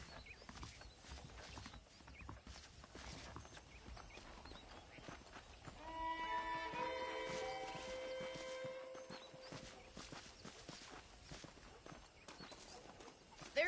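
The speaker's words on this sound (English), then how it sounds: "The horses are saddled up over here." Horse hooves clip-clop in the Red Dead Redemption video game, a steady trotting rhythm under game music and ambience, with a brighter tonal passage swelling midway before the hoofbeats carry on.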